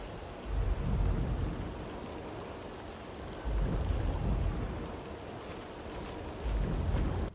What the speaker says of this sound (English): Vigrid in the rain, forget about it. Rain is pretty easy to get right though.